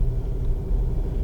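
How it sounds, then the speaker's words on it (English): A Ford Endeavour SUV with a 3.2-litre engine cruising along residential colony roads, a steady low engine and road rumble heard from inside the cabin. "I'm driving through some colony roads and there is no issue handling this massive car."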